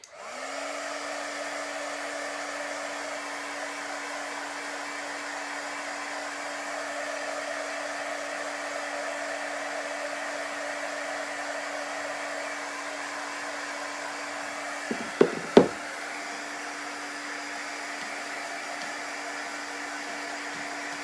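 A handheld heat dryer drying chalk paste on a craft piece, a steady loud whirring blow with a low motor hum running continuously, with a couple of brief knocks near the end.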